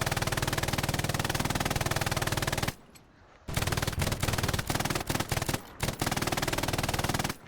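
Machine gun in the Hell Let Loose video game firing long, rapid, loud bursts up close, with a short pause midway and then several choppy shorter bursts.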